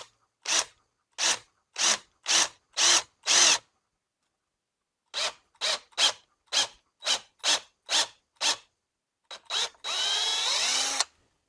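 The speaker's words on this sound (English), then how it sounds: "So now all I need to do is drill into this" A power drill bores a 3/8 inch hole for a scupper hole anchor pole in short, evenly spaced bursts, first six, then a pause and seven more, ending in a longer, rougher grinding run, close and loud with silence between.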